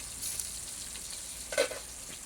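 Food fries in a hot pan while being stirred, a steady sizzle with a brief louder scrape of a spoon midway and lighter stirring around it.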